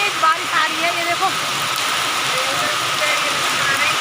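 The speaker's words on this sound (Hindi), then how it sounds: "और बहुत तेज बारिश आ रही है" Heavy rain pouring in the mountains, a dense even hiss of downpour filling the whole stretch, with a voice talking briefly over it near the start.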